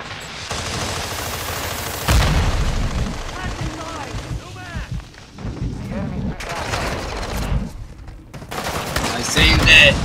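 Light machine gun bursts in Modern Warfare 2 multiplayer, several loud rattling volleys of rapid gunfire separated by brief pauses, mixed with game effects and a voice talking over it.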